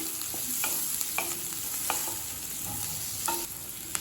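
Onions sautéing and being stirred in a pan for capsicum chutney, with a steady soft sizzle and intermittent scraping strokes of a spatula, close and continuous with no talking.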